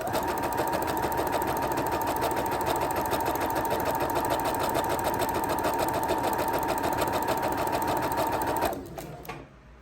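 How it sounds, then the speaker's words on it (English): A sewing machine runs a steady straight stitch joining tulle to ribbon, its fast even whir loud and continuous for most of the clip before slowing and stopping near the end. "using a straight stitch, we're just going to sew the tulle to the ribbon all the way down"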